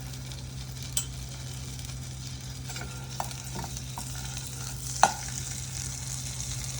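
Cumin seeds frying in butter in a kadai that was used earlier for frying paneer, a soft steady sizzle close by with a few faint clinks of a stirring spoon.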